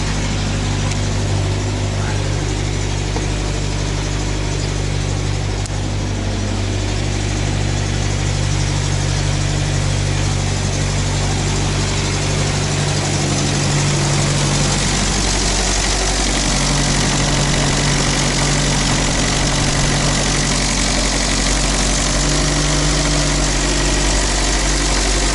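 A UAZ engine idles steadily after a battery replacement, a loud, constant low rumble with mechanical vibration throughout and no talk.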